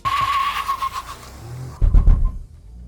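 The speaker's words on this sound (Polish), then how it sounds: "Pod maską tego niewielkiego samochodu pracuje nowy trzycylindrowy silnik o mocy 83 koni mechanicznych." A Suzuki Swift with a three-cylinder 83-horsepower mild hybrid engine and five-speed manual gearbox passes with a high tonal whine, then a short burst of louder, rumbling tire and engine noise before fading out.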